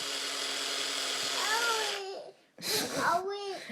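A child's toy drill whirs steadily with a high buzzing tone, pauses briefly, then starts again. A young child babbles over it throughout.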